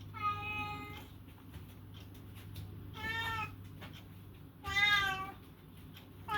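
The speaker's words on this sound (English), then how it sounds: "My cat is a little bothered right now." An old female cat, about 17 years old, meows three times indoors, each call drawn out and fairly close, separated by short pauses over a low steady hum.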